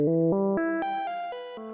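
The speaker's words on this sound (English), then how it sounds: "Let's add some reverb to the sound." Random generator synth stepping through pitched tones with reverb added, a rising and falling sequence of sustained notes with bright harmonics, each step blending into a soft reverb tail, loud and alone.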